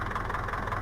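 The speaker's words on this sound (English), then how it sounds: "it sounds like a typical old tractor" Old Ursus 914 Turbo tractor engine in Farming Simulator 15, a steady, low, throbbing idle with an even pulsing rhythm, loud and continuous throughout.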